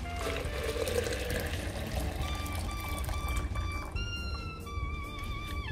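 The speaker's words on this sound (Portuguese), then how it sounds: "Agora eu vou adicionar a mistura aí 1 litro de água." One liter of water is poured into a mixture of aged cattle manure, a continuous splashing and trickling stream with rising gurgling tones as the container fills, close and fairly loud, with no talking over it.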